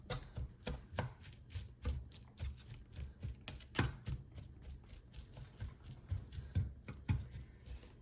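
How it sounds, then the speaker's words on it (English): Quick, repeated taps and light scrapes of a spatula against a pan, breaking up crumbly riced hearts of palm in a steady rhythm, close and fairly quiet. "And now I'll break it up with a spatula."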